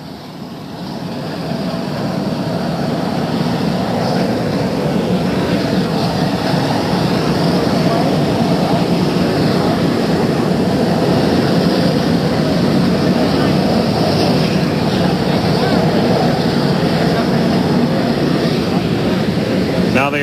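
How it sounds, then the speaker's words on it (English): A dense, steady roar of an Army helicopter's engines and rotors starting up before takeoff, in 1963, rising in the first seconds and holding loud and continuous, with a voice talking over it. "Now the Army helicopter preparing to take off. The rotors beginning."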